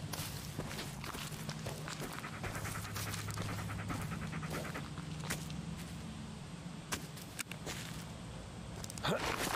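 A dog pants in quick, rhythmic breaths alongside scuffing footsteps, close and continuous, with people talking over it.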